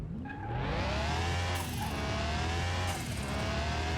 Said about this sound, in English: It's got some nice turbo flutter and stuff, but it is slow.